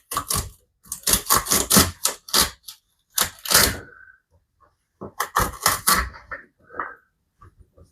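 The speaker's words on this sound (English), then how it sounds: "So we're gonna cut the bases off, which starts to fade in color." A knife chops through asparagus bases on a cutting board, giving a series of crisp, close taps in quick clusters with short pauses between them.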